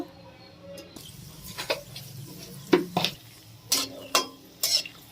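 Five or six cashews in mustard oil in a wok, giving a soft sizzle under a series of spoon scrapes and metallic clatters against the pan; nobody speaks.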